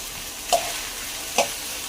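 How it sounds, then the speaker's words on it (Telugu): Okra (lady finger) frying in oil in a pan, a steady soft sizzle with two brief louder stirring scrapes spaced about a second apart, close and without voices. "బెండకాయలు వేగుతున్నాయి"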